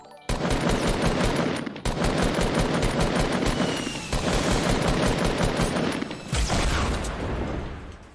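Dense video-game gunfire in Fortnite, rapid automatic bursts filling the whole stretch with heavy booming hits, loud and close, with brief gaps between volleys.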